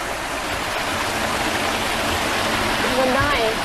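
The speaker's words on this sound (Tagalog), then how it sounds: "Ano tawag dyan? Falls." A waterfall roars as a dense, constant wash of rushing water, loud and close throughout, with faint voices barely rising above it near the end.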